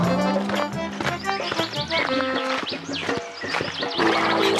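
A horse-drawn carriage rolls along as the horse's hooves clip-clop in a steady rhythm, mixed into a busy, lively backdrop of other sounds.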